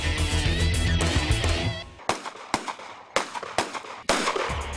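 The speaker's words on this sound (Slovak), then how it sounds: "Zatiaľ, čo iným by pred zvukom strieľajúcich zbraní utekali, my sme sa vybrali priamo za ním." Gunshots fired on a camp range, a string of sharp single cracks spaced irregularly, loud and near, following a stretch of music-like tonal sound.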